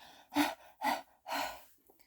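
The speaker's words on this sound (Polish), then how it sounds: "I'm out of breath." Heavy, out-of-breath panting after squats and spinning round and round: three strong breaths in a row, close to the microphone, each rough and breathy, then a faint softer exhale.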